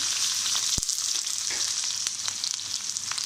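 Onions frying in hot oil in a kadai give a steady, bright hiss throughout, with one sharp clack near the start and a few soft crackles, close and loud, with no talking.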